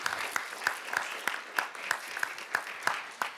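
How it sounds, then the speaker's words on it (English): Scattered applause from a small audience at a talk about Billings Farm in Woodstock, Vermont, with sparse claps at a steady, unhurried rhythm, fairly faint and heard alone. "Let's give one more warm round of applause and a big thank you for David and Jason"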